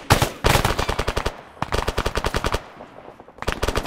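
M249 machine gun firing in the video game Arma 3, heard as long sustained bursts of rapid automatic fire with short gaps between them, loud and fairly close, with no talking.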